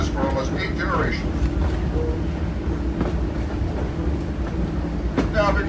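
A train on the Strasburg Rail Road in Pennsylvania rolls along with a steady rumbling clatter of wheels on track. A voice talks over it throughout.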